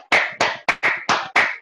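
Children clap in six separate sharp bursts, each a short flurry of many hands, spaced at a steady rhythm, close and fairly loud, with no talking.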